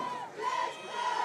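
A crowd at a high school football game, Western at Cathedral, roars and cheers in a broad, sustained swell, distant and continuous with slight surges.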